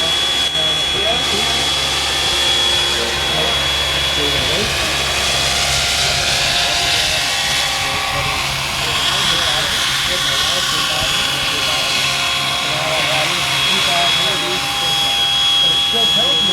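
A scale model aircraft engine drones steadily at a flying event, its tone rising and falling as the plane flies and comes in to land, with talk heard over the engine noise.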